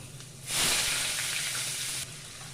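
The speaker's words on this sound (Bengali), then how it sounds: "এবার ওই তেলেই রসুন কুচি পেঁয়াজ কুচি ভাজতে দিয়ে দেব" Chopped garlic and onion hit hot oil left over from frying fish, bursting into a loud, steady sizzle that starts abruptly and holds for about a second and a half before dropping back to a quieter hiss.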